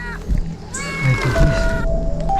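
A cat meowing nearby at night in a bamboo thicket, a few drawn-out tonal cries mixed with rustling and a voice close by.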